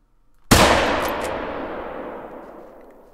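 A single loud 30-30 rifle shot fired at a reindeer in the hunting game theHunter: Call of the Wild, a sharp crack followed by a long rolling echo that fades over a few seconds.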